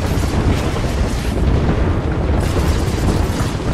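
A grenade explodes in a competitive Apex Legends battle royale match, a dense, rumbling blast that fills the whole stretch with loud, sustained low-end roar and debris noise, with no talk over it.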